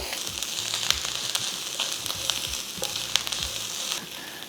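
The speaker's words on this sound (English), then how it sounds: "I'm going to add my curry leaves as well" Garlic, ginger and curry leaves sizzle in hot oil in a pan for a prawn and mussel curry, a steady close crackle and hiss with occasional sharp pops and light stirring.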